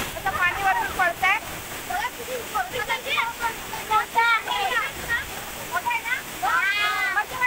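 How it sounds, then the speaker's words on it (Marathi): A waterfall near Pali, swollen by rain, roars as a constant rushing wash of falling water while several people talk and call out loudly over it. "पाणी वरून पडतंय."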